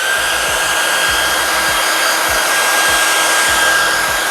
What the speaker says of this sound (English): So let's blow dry this one in place and we'll be able to see how it looks.